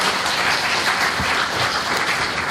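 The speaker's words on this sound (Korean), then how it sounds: "큰 박수 한번 쳐주시기 바랍니다" Party members at a Democratic Party rally in Busan give a big round of applause, dense and loud clapping from a large crowd that fills the whole moment without a break.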